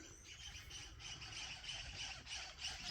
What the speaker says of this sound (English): that sounds like a lot of king parrots there